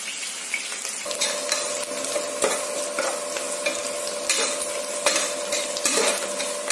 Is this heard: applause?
no